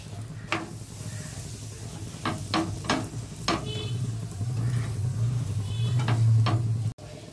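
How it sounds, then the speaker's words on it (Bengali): Paneer paratha fries in ghee on a pan with a steady low sizzle, broken by several sharp knocks and scrapes of a spatula, near and clear with no talking. "আমি পুরোটাই ঘি দিয়ে ভাজছি।"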